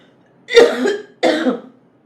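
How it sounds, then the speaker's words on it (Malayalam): Two close, loud coughs, one after another, with a short pause between them and near silence around. "അമ്മമ്മയുടെ കഫ് എനിക്ക് കിട്ടിയിട്ടുണ്ട്"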